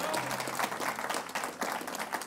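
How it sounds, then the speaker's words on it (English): Church congregation clapping in praise during a worship service, a dense, steady round of hand claps that fills the space for a couple of seconds, with faint voices mixed in beneath. "Give God another hand clap of praise."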